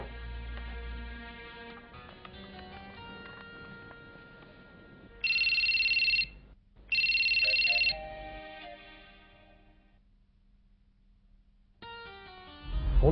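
A phone ringtone chimes twice in bright bursts, set within a soft synthesized melody that fades and returns, with no talking.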